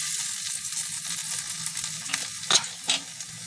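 Curry leaves crackle and sizzle in hot oil, a steady frying hiss with a few sharper pops near the end.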